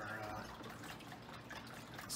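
Sweet egg and milk mixture poured over stale, butter-drizzled bread, a steady soft trickle of liquid running for a couple of seconds at low level.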